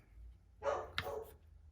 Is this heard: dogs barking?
yes